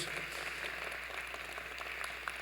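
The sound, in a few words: congregation applause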